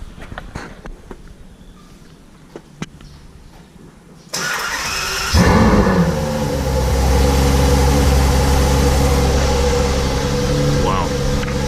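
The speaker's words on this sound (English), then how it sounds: "the best moment actually of the video, that is always exciting, is the cold start" A 2015 Ferrari F12 Berlinetta V12 does a cold start: after a quiet stretch, a starter whirs, then the engine catches with a loud roaring flare before settling into a high, steady idle close by.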